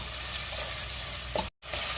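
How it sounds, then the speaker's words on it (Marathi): Tomatoes sautéing in ginger-garlic paste for chicken kheema, a steady close sizzle with a brief stir scrape near the end and a short dropout just after. "त्यात आता आपल्याला टोमॅटो घालायचे आणि टोमॅटो मी 2 ते 3 मिनिटं परतून घेणार आहे"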